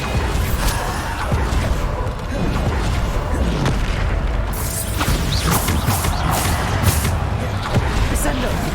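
Bombarda spell explosions in Hogwarts Legacy during a combat trial, heavy booms and crashing impacts piling over continuous battle noise, with sharp bursts recurring through the second half.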